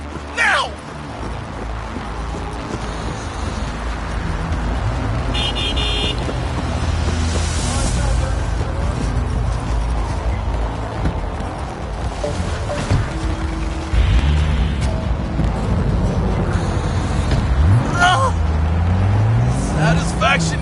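Car engine and road noise while driving in Cyberpunk 2077 on PS5, a continuous rumble with passing traffic and game sounds, with voices talking over it throughout.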